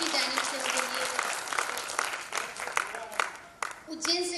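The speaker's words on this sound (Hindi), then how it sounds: "एक बार जोरदार तालियां उज्जैन की जानिब से उनके लिए।" An audience at a Sufi qawwali event in Ujjain applauds loudly with dense, sustained clapping that tapers near the end, while a voice speaks over it.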